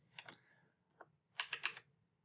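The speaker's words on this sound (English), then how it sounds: "I can even use my arrow keys." Arrow keys tapped on a computer keyboard while nudging a building's position in Revit, a few light isolated clicks followed by a quick burst of three or four close keystrokes.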